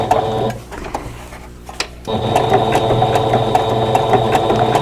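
A sewing machine embroidering a quilt block pauses briefly, then runs in a fast, steady mechanical chatter of needle strokes, close and continuous.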